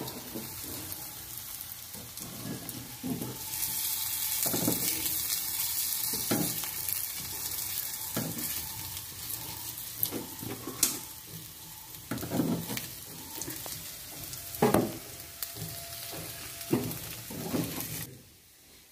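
Kuzhi paniyaram sizzle in a paniyaram pan after being flipped with a knife, a steady crackling fry broken by sharp metallic scrapes and taps, with no voices.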